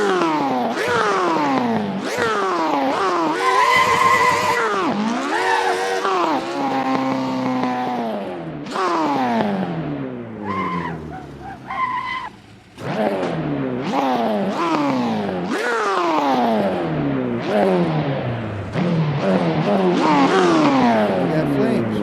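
A car engine revs hard in repeated rising and falling bursts, loud and close, with pops and flames from the exhaust pipe, and brief gaps between the pulls.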